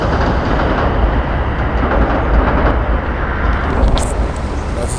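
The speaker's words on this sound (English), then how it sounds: "That's the train right there." Train passing in Brooklyn, New York: a loud, steady roar of rolling wagons up close with low rumble, holding at a constant level through the whole span, plus a brief high squeal near the end.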